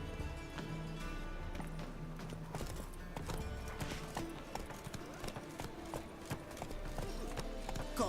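Roach, a horse in the video game Witcher 3, trots with rhythmic clip-clop hoofbeats throughout, mixed with game sounds and someone talking over the gait.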